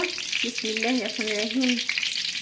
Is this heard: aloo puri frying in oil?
yes